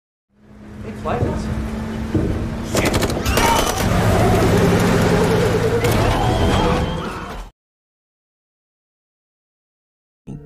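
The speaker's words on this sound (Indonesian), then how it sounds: "Terjadi baku tembak di antara kedua kubu tersebut, hingga mobil yang ditumpangi Anissa terguling." Heavy film gunfire exchange with rapid machine-gun bursts and shots over a vehicle rumble, then crashing as a car overturns. The loud, dense barrage ends abruptly into silence.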